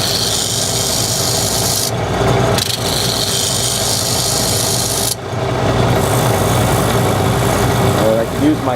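A wooden lidded chalice blank is smoothed while spinning, giving a continuous loud rasping rub over a motor hum, with brief pauses where the tool lifts off.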